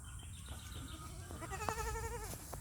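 Several goats bleat in quavering, wavering calls, loudest midway and toward the end, over a busy outdoor farm background.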